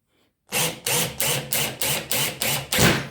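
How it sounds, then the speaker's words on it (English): A Parkside PWBSA 12 A1 cordless angle drill drives screws into wood in six quick, loud, evenly spaced bursts of motor whine, each ending with a short stop, then one final heavier burst. "Let's go back for screwing performance."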